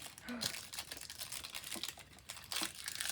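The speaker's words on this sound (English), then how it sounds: "we're gonna have to tear the bag to open this" A plastic bag being torn and crinkled open while unboxing a cross-stitch advent kit, with close rustling and sharp tearing bursts, a person talking over it.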